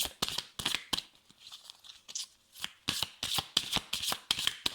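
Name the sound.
oracle cards being handled and drawn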